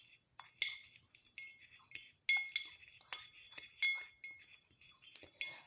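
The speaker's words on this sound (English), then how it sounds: "we're just going to stir this together" Green beans being stirred in turkey broth in a pot, with light spoon clinks against the metal and soft scraping in short irregular bursts, fairly quiet and close.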